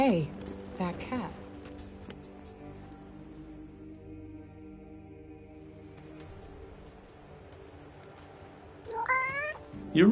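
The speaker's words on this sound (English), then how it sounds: "Hey, that cat." A cat meows in the video game Forspoken, a couple of close meows at the start and again at the end, with a steady ambient hum between and a voice speaking.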